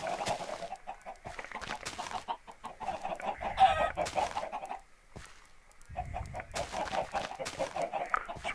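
Minecraft farm chickens cluck continuously in overlapping bursts, pausing briefly near the middle before the steady clucking resumes, with no one talking.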